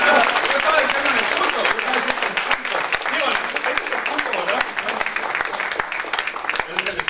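A church congregation claps together during a worship service, a dense, steady burst of applause that lasts the whole stretch with mixed voices underneath.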